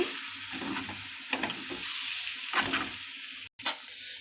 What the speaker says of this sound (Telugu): ఇది బాగా వేగాలండి.